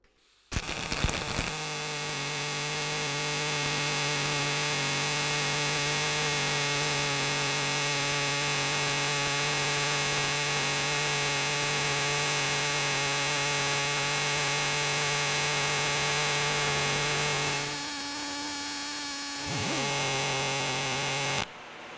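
An EWM Picomig MIG welder runs on 8 mm steel plate with 1 mm steel wire at 198 amps and 10.2 m/min wire feed, giving a steady, buzzing arc hum that breaks briefly before resuming.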